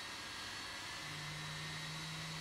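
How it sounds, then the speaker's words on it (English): A Boeing 767-300 jet engine spools up in the X-Plane 11 flight simulator, a steady roaring whine with a low tone that rises partway through, loud and continuous with no talk. "So the engine started here, and the engine is now started here."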